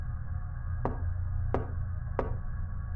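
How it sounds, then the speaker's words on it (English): Knocking on a door: three separate, evenly spaced raps land about two-thirds of a second apart over a low, steady background hum, with no voices. "I hear a knock at the door."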